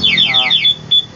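A Honda Click 125i motorcycle alarm system chirps loudly in rapid, repeated descending electronic sweeps, then pauses before one more short beep, all close and clear.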